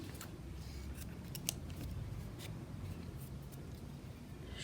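Scissors snip the yarn on an amigurumi crochet piece, a few faint, close clicks over a low background hum, with no talking.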